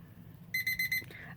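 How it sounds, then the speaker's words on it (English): A new egg timer's alarm goes off close by in a quick run of four or five loud, shrill electronic beeps, then stops. "I know John ordered me a new egg timer from Amazon"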